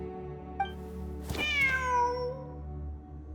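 A cat meows once in Genshin Impact: one clear, drawn-out cry with a falling pitch, close and alone over a low, steady game-music drone.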